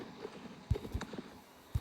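Horse hooves striking the ground in a horse racing video game, a few sharp, uneven thuds over quiet background, brief and fairly close.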